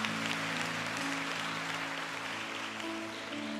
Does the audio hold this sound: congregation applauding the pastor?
yes